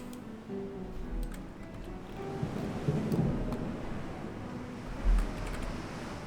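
Thunderstorm at sea in the naval game Ultimate Admiral Dreadnoughts: low rolling thunder rumbles over steady rain hiss, with a heavier thunder boom near the end, fairly quiet overall.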